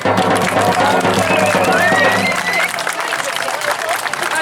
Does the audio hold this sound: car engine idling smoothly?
no